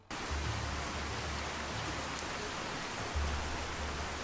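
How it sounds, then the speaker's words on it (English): Rain from the True Storms weather mod falls in Far Harbor in Fallout 4, an even, dense hiss of rainfall with a faint low hum that starts abruptly and continues unbroken. "it is currently raining. And this is a True Storms rain"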